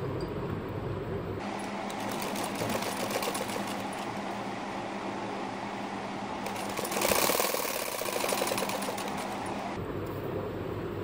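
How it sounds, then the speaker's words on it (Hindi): A sewing machine runs steadily, stitching the folded hem of a double bed sheet, its motor humming with a fast rhythmic needle chatter; it runs close and loud for most of the span, swelling briefly midway before stopping. "और तय लगाकर अब हम इसको सिलाई करते हैं।"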